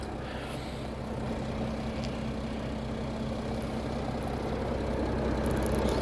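A 2019 Audi A6 Allroad Quattro 50 TDI diesel idling with the bonnet open, giving a smooth, steady low rumble with a soft, even hum that stays consistent and close, with no talking over it.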